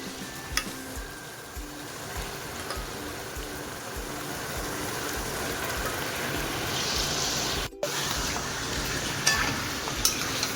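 Yogurt-marinated chicken hits the hot pan and fries with a loud, dense, rain-like sizzle that holds steady throughout, broken by one brief dropout and a few small clinks.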